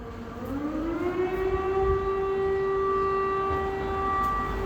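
An air raid siren wails in Kyiv, a steady, sustained tone that rises slightly at the start and then holds, heard from a distance over low background rumble.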